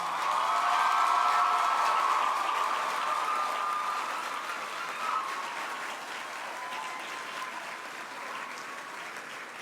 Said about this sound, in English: give your parents, family, and friends a rousing round of applause